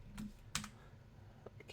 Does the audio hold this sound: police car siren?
no